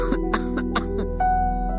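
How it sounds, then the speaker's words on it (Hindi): An elderly mother lying ill in bed coughs repeatedly, a series of short close bursts spaced through the moment over a steady background tone. "अभी भी खांस रही थी।"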